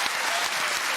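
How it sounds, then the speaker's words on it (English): Talk-show studio audience applause on The Graham Norton Show: a loud, thick burst of many hands clapping together, continuous throughout the short moment. "it deserves a round of applause"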